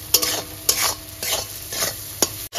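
Onion and tomato frying over a low flame in a pan while cooking a tilapia curry, with a steady sizzle broken up by several sharp bursts of scraping and stirring. Close and fairly loud, with no talking.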